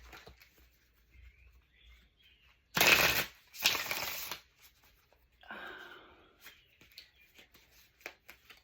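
Two quick, loud riffling bursts of tarot cards being shuffled, followed by softer rustling and handling of cards.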